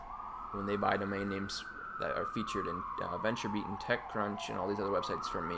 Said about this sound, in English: sorry for the sirens, I live downtown Toronto and they just roar all night long.